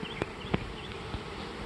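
Honey bees buzzing around a four-way mating nuc hive in a queen castle setup, a steady droning hum of many bees close by, with a few sharper passes as individual bees fly near.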